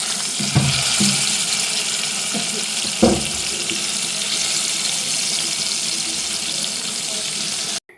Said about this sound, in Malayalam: അങ്ങനെ ലെഗ് പീസ് ഓരോന്നായിട്ട് നമ്മൾ ഫ്രൈ ചെയ്യാനായിട്ട് ഇവിടെ ഇടുവാണ്.